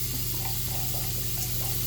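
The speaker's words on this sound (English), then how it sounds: "I take out the blade and the razor head and everything, and I just run those under the water" A razor blade and razor head rinsed under a running tap after a shave, giving a steady, close hiss of flowing water with faint splashing, alone and without talk.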